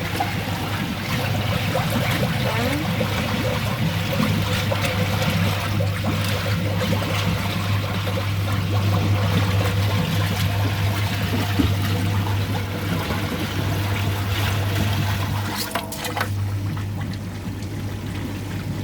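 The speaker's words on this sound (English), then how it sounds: "And open his ball valve. And hopefully that's draining." Water drains steadily through an opened ball valve from a homemade koi pond static bed filter, a continuous close pouring and trickling rush that eases slightly near the end.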